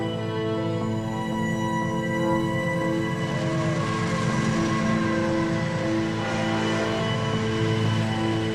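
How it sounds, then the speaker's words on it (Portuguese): A passenger train runs steadily on the rails in Brazil, giving a continuous loud rumble with constant rolling drone and mechanical hum, and no voices. "Sete minutos de trem rodando."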